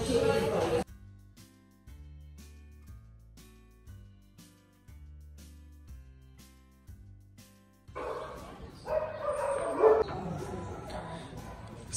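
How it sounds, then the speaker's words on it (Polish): Dogs at an animal shelter bark, yip and whimper in bursts, close and lively, with voices and other background sounds around them. "te pieski są takie piękne wszystkie"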